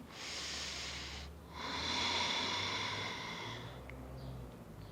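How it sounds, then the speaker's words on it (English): Slow, audible breaths during a post-workout lunge stretch, a long exhale then an inhale, close and breathy. "Breathing out, and then breathing in."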